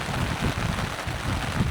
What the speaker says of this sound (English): The sound of the rain is gentle, quiet, soothing,